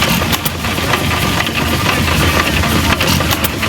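An old hit-and-miss stationary engine runs without firing on every stroke, a loud, close, continuous mechanical chugging with irregular louder pops scattered through it.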